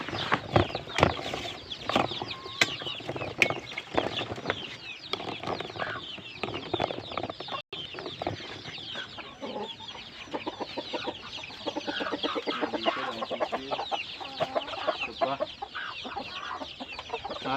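Chickens and young chicks cluck and peep steadily in a crowded backyard coop housing about sixty chicks, a dense, continuous chorus with occasional wing flaps, close by and without voices.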